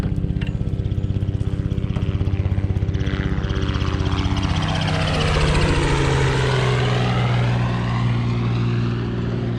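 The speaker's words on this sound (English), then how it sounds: "There's a helicopter flying right down the river." A helicopter flies low along a river, its deep rotor drone and engine whine loud and steady, sweeping into a clear pass with a falling pitch as it goes by. No one speaks.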